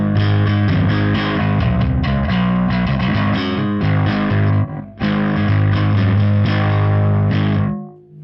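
Electric guitar played through a cranked Marshall JCM 800 Bass Series full stack with the master volume all the way up, giving loud, heavily distorted chords in chugging rhythmic bursts with a brief break, then ringing out at the end.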